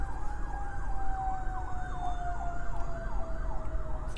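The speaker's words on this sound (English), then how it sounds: "Let's wait for that fire truck." A fire truck siren wails in a steady rising-and-falling pattern, fairly close, over the low rumble of road traffic.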